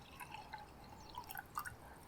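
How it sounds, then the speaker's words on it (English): Water trickles and drips softly into a potion container being filled, a quiet close sequence of small splashes and droplets with faint glassy plinks, in an ASMR setting. "So now, I will fill this up to right about here with water."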